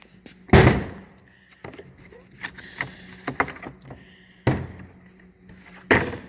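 A drawer of a Snap-on KRA 5318 metal tool box opens with a loud clunk, then metallic rattles and clicks, and more heavy thuds as drawers slide and knock shut nearby.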